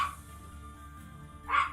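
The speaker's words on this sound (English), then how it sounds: "Hey, why are you barking?" A dog barks at a window inside a home kitchen, with a brief bark at the start and a louder, closer burst near the end over a low indoor hum.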